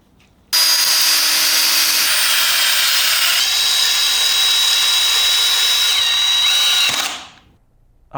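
A power drill drives fasteners down through the cap rail of a Legacy cable railing, one loud continuous whir lasting about six seconds that then winds down to quiet, with no talking.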